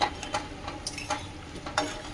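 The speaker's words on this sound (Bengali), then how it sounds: "এইদিকে আমি ভাজছি" Flour nimki snacks fry in a pan of oil, giving a soft crackling sizzle broken by repeated light scrapes and taps of a stirring utensil, fairly quiet and without any voices.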